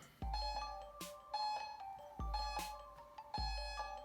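Electronic timer beeps repeating in a regular pattern, three ringing tones each followed by a higher chime, clear and close with no talking.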